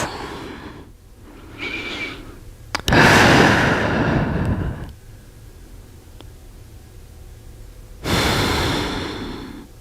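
Slow, deep breaths during a yoga stretch, heard as several long airy inhales and exhales, close and fairly loud, separated by quieter pauses with faint background hiss.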